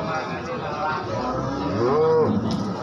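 A Simmental cow gives a drawn-out moo near the end, rising then falling, over background chatter and ambient noise at a livestock market in Blora, Indonesia.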